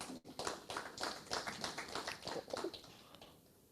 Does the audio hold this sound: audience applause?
yes